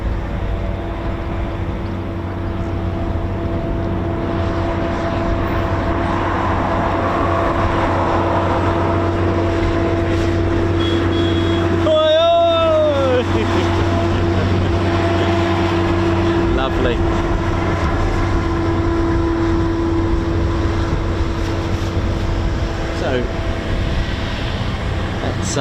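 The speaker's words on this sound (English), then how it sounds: "just can hear Typhoon spooling" A Eurofighter Typhoon jet engine spools at RAF Coningsby as a steady distant roar and whine that runs throughout, with a rising and falling tone partway through and continuous talk over the top.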